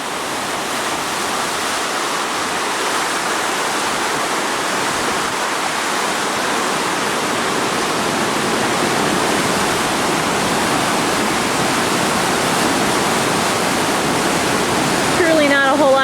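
Flood water rushing around a flooded camp, a loud, steady roar of churning water that fills the whole stretch without pause, building slightly near the end.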